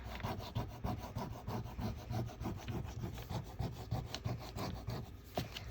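Folded paper carrying a black-crayon butterfly wing drawing is rubbed by hand in quick, rhythmic scratchy strokes, steady and close, with no talking.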